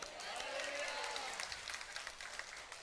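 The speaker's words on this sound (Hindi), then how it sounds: "जोर से हालेलुया बोले कि ताली बजाओ" Congregation at a Sunday church service clapping hands together, a dense continuous patter of many hands filling the room at steady volume, with faint voices mixed in.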